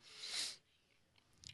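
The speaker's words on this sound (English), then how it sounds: "excuse my sniffles" A short, breathy sniffle through the nose, followed by quiet room tone and a couple of faint small noises.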